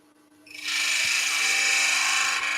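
A woodturning chisel cuts into a wooden spindle spinning on a lathe, starting after a quiet moment as a bright, even shearing hiss that holds steady and close, with a faint motor hum beneath.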